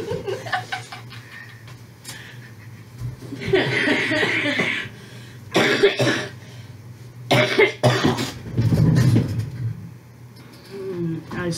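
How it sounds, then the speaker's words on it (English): A person coughs repeatedly in short fits, mixed with chuckling and laughter, and people talk in between. "anytime I get active in that, I start coughing a lot still"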